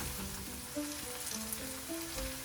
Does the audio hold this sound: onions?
yes